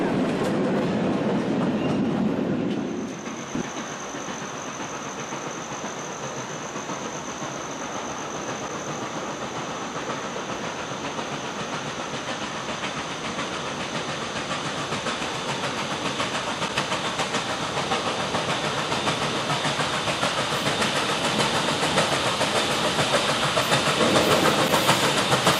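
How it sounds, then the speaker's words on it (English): A train passes along railroad tracks close by, its steady loud rumble and clatter filling the whole stretch and growing slightly louder toward the end, heard from a trackside spot with no talking. "as soon as the front of the train passed"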